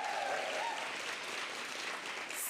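A school crowd of sixth-grade students cheers and claps in a large room, a dense steady roar of voices and applause lasting a couple of seconds, moderately distant.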